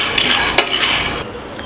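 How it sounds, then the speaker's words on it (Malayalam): Peanuts roasting in a pan are stirred briskly, making a continuous rattling, scraping clatter with one louder scrape of the utensil against the pan. "നന്നായിട്ടൊന്ന് ഇളക്കി കൊടുക്കാം"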